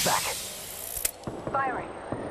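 Shields charging in the Apex Legends video game, a brief mechanical whirring and clicking mixed with other game sounds and a little voice.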